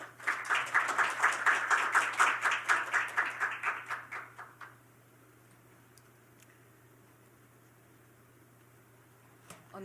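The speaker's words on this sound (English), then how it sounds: "Please give her a warm round of applause." A conference audience at a sustainable energy development forum gives a warm round of clapping that lasts about four and a half seconds, then falls to a quiet hall with faint room hum.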